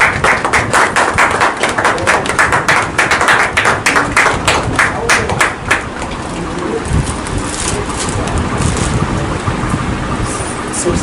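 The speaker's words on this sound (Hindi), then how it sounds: "जोरदार तालियों से स्वागत करें।" Applause welcoming a guest at an office inauguration during a Teachers' Day gathering, dense clapping for about six seconds before it thins out into a murmuring crowd and background noise.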